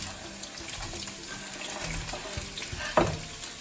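Thinly sliced onions hitting a hot pan with cooked lentils for spicy potatoes, a steady hiss and crackle with a sharp clatter near the end.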